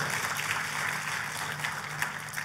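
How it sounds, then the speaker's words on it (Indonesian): Applause from a church congregation during a sermon, a steady, dense patter of many hands that holds evenly throughout, moderately distant and fairly soft. "Tepuk tangannya yang meriah buat Tuhan kita."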